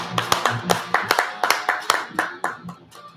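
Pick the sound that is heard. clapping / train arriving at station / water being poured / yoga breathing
clapping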